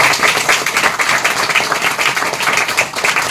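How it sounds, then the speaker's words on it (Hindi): A church congregation claps together, a steady run of loud, fast hand claps filling the space without pause and with no speech over it. "तो ताली बजाई जोर पाने को चाहिए।"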